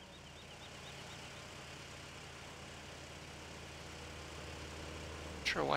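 A tractor engine idles in Farming Simulator 15, holding a steady low rumble that swells slightly toward the end, where a sharp chirping sweep cuts in.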